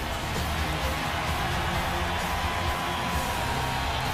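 Football stadium crowd before kickoff of a Chargers at Chiefs game, a continuous dense roar of distant voices and cheers, broad and steady throughout.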